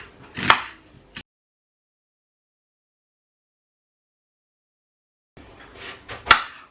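Onions chopped on a board, a few sharp knife strikes in two short bursts separated by a long silence, close and clear.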